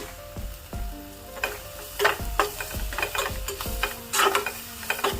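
A spiced vegetable mixture for a veg chapati roll is stirred in a hot pan, giving soft sizzling under repeated scraping and clinking strokes of a spatula, close by and without speech.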